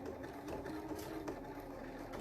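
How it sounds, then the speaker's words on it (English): A sewing machine runs a straight top stitch along pleats of a fabric face mask, giving a steady, fast mechanical whir that is close but quiet throughout. "we're going to sew those pleats nicely in, being careful not to hit our pins"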